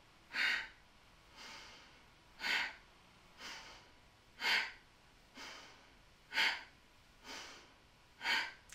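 During chair yoga breathing, strong exhales puff out in an even rhythm, about one every two seconds, each sharp push followed by a softer breath, close and clear with no talking.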